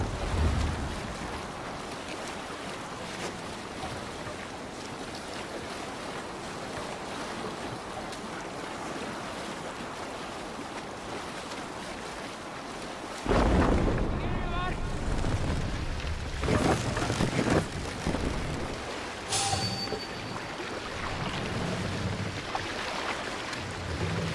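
A Viking longship under sail in the Assassin's Creed Valhalla video game: a steady rush of wind and surf that turns louder and choppier as waves splash against the hull, with a few faint voices in the background.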